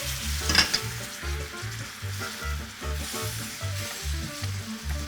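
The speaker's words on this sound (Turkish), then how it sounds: "Şimdi bu haldeyken yavaş yavaş kremayı ekliyorum" Cream poured slowly into hot caramelized sugar, bubbling and sizzling loudly in a pan, with a rhythmic pulsing boil that carries steadily throughout and no talking.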